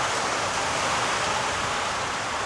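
A sudden heavy downpour of rain falls hard and constant, producing an even, roaring wash of noise throughout.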